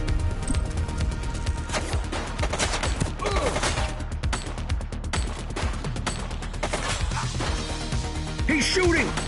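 Gunfire from a suspect in the police game The Precinct, sharp cracks and bursts throughout a dense, loud mix with voices talking over it.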